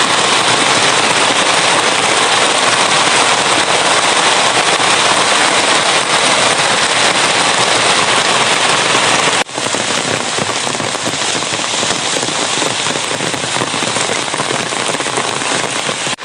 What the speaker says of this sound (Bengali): প্রচুর বৃষ্টি আর বৃষ্টি।